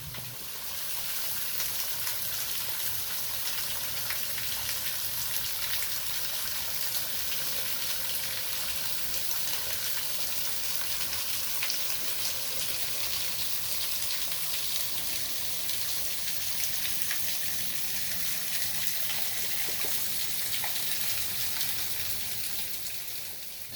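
Water falls steadily from cliffs into a mountain grotto near Salt Lake City, Utah, in a dry late season, making a continuous broadband hiss and patter that holds at an even level throughout with no talk.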